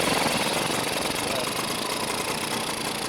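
Engine of a 1967 Yamaha L5T 100 motorcycle running at idle, a steady buzzing drone with a light knocking texture that holds at a constant level throughout.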